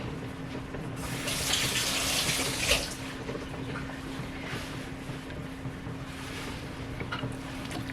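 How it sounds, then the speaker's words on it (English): Hands being rinsed under a running kitchen sink faucet, a steady close hiss of flowing water with a brief louder splash as the hands move into the stream. "Wash my hands real quick."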